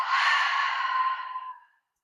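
A single deep, slow exhale through the nose during a breathing exercise, soft and close, breathy and steady for about a second and a half before fading to silence.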